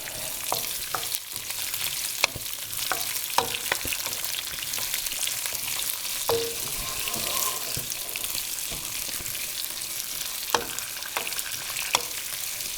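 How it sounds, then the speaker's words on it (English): Chopped vegetables for a summer ratatouille sizzle steadily in hot oil in a pan, with repeated stirring scrapes and clinks over the continuous frying hiss, close and alone. "Just make sure everything is covered in oil and you're moving around so you're not getting, you don't want to brown the vegetables, you just want to soften them"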